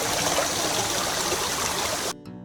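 A woodland creek along the Appalachian Trail rushes in a steady, close, broadband wash of flowing water that cuts off abruptly near the end.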